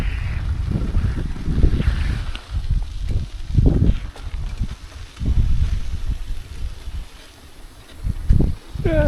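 Cold wind buffets the microphone in strong low gusts while cycling on the North Eastern State Trail on a chilly morning, with a rider speaking intermittently over it.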